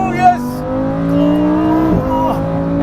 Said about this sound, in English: the sound of the engine is fantastic